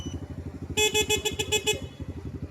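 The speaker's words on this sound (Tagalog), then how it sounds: "Busina." A rapid run of about seven short honks from a 200cc ATV horn sounds close by over a steady idling engine rumble.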